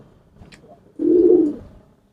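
A domestic pigeon, kept for pairing with a turtle dove, gives one low, throaty coo close by, lasting about half a second after a faint murmur, then falling silent.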